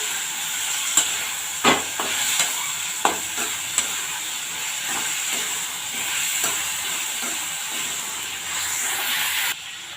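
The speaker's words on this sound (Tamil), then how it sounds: "நல்லா கொஞ்சம் வதக்கிட்டு" Ingredients for kara chutney sauté in a pan with a steady sizzling hiss, broken by scattered sharp clinks and scrapes of stirring; close and moderately loud, with no talk.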